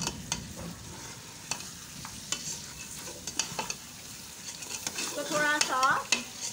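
Gosht frying in masala in a pot for chana dal gosht, a close sizzle with repeated scraping stirs and spoon knocks, growing busier and louder toward the end, with a brief spoken phrase.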